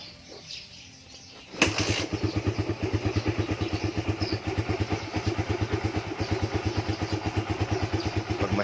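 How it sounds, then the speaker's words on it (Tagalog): A Suzuki Raider 150 motorcycle that has been starting hard is kicked over and catches, then settles into a loud, close idle with a fast, even pulsing beat. "Kickstart lang ulit."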